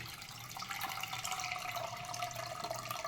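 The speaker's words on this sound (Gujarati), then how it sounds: "આમાં હવે પાણી એડ કરી દઈશું" Warm water pours steadily into a cooking pot while veg pulao is being made, a soft continuous splashing fill at close range with no speech.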